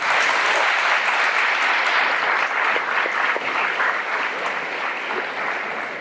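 Applause from the audience at a high school football banquet, a loud, dense and even roar of many people clapping together that holds steady and tapers slightly near the end.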